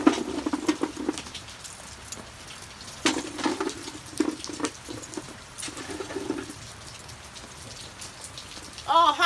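Rain patters and drips steadily around an outdoor cooking spot with a wood and charcoal fire for African-style cooking, scattered close drops landing on surfaces over a soft wash of rainfall, with no talking.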